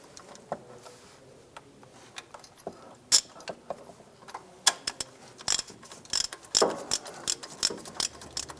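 A socket ratchet with an extension snugging an oil pressure sensor on a 2004-2009 Dodge Durango, giving scattered, uneven bursts of quick metallic clicks close by, with quiet pauses between strokes.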